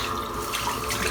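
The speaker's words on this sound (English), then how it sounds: "I'm just going to rinse the brush off, which is absolutely chockers full of lather." Tap water runs steadily into a sink while a shaving brush packed with thick lather is rinsed out, a continuous close splashing hiss with small bursts of spatter and no voices.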